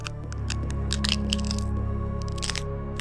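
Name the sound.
bones cracking and breaking, horror story sound effect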